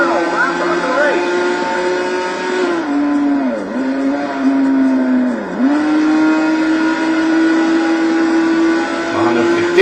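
A race car in Total Immersion Racing at Sebring roars through its final lap, the loud engine whining at high revs and dipping twice as it shifts or brakes into corners, with someone commentating over it.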